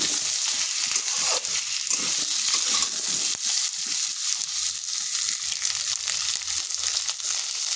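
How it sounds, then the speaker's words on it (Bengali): Chopped onions fry lightly in hot oil in a pan after garlic, a dense steady sizzle with occasional stirring scrapes, close and fairly loud, no talk. "এরপর এখানে দিয়ে দিচ্ছি যে পেঁয়াজগুলো কেটে রেখেছিলাম, পেঁয়াজগুলোকে হালকা ভেজে নিচ্ছি।"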